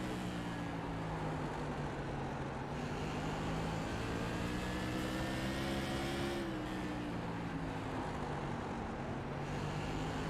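Tour Modified race car engine heard onboard while running in traffic at Southern National, a loud sustained roar with rising and falling pitch as the driver works the throttle, other cars audible around it.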